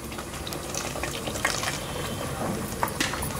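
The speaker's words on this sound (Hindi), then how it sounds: "ये प्लेट में थोड़ा सा पानी डाल देते हैं, दो से तीन चम्मच" A small amount of water, two or three spoonfuls, splashes onto a plate of spices during mutton gravy cooking, a soft liquid patter over steady kitchen noise.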